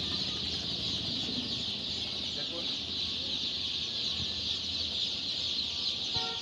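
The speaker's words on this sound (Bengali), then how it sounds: "আমাদের নিজস্ব হ্যাসারির অরিজিনাল সুপার হাইব্রিড সোনালি মুরগির বাচ্চাগুলো" Hybrid Sonali chicken chicks in a hatchery shop, a dense constant chorus of high cheeping from many birds close by, with a voice speaking briefly over it.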